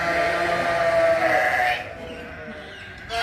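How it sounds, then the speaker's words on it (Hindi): A sheep bleats at close range with a drawn-out, wavering call among a pen of mixed livestock breeds, then the call stops and quieter farmyard background noise remains. "ये भी हाँ, ये भी भेड़े हैं"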